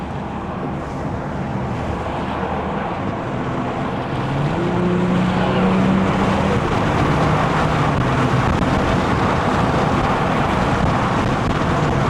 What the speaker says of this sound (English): we're on the highway in the M240i.